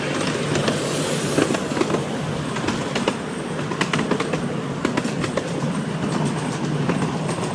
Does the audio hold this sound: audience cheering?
no